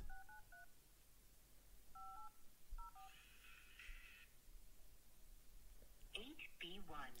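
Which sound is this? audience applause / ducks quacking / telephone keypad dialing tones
telephone keypad dialing tones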